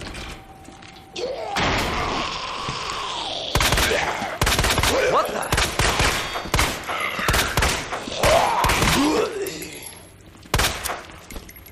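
Repeated bursts of handgun fire in Resident Evil 2 Remake, sharp cracks and clattering shots in clusters alongside creature noises, with someone talking between them.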